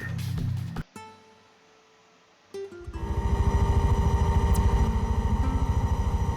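A helicopter engine in the video game Take On Helicopters starts up after a brief lull and settles into a loud, steady pulsing drone with rapid rhythmic rotor beating, up close.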